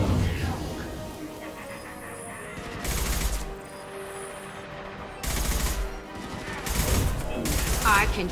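Gunfire in the video game Mass Effect 2 crackles in several loud bursts separated by quieter stretches, mixed with battle effects and shouting voices.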